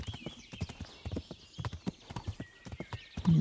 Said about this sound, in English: I love the sound of horse hooves on wood like that.